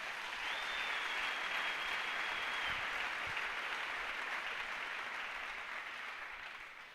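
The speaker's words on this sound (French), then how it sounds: "Acclamons d'abord le Seigneur." A church congregation applauds in praise of the Lord during a sermon: sustained, dense clapping from a large crowd that holds steady for about seven seconds and then starts to fade slightly.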